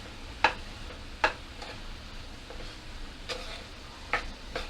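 Fresh grated coconut being sautéed in a pan, with a low sizzle broken by a few sharp clicks of a spoon against the pan at irregular intervals.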